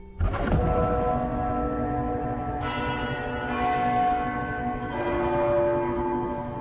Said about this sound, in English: The bell resonates with thunderous clangs